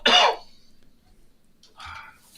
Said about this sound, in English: I was just coughing